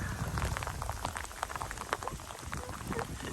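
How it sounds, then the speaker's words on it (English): Steady rain pours down outdoors along the Blue Ridge Parkway near a pine tree, a dense, continuous hiss of drops with scattered sharper patters striking nearby surfaces, no voices. "Steady rain now. Coming down real good."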